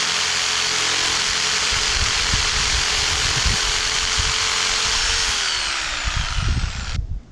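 Power tool such as a router trimming laminated plywood edge strips on a hanging TV unit side piece, giving a loud steady high whine throughout that winds down as the tool stops near the end.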